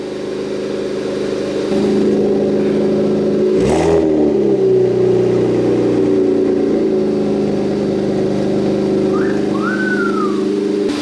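A straight-piped Infiniti Q50 Red Sport car engine drones loudly and steadily, with a sharp revving surge partway through and a low rumbling exhaust throughout.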